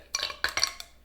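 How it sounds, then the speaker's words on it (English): A few ice cubes clink sharply into a glass for a summer lime drink, three or four bright close taps in quick succession. "Then you can put a couple of ice cubes in it."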